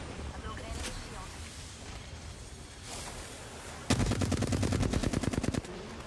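Rapid automatic gunfire in an online multiplayer video game erupts as a dense burst of repeated shots for about two seconds, following a stretch of quieter game noise with talk.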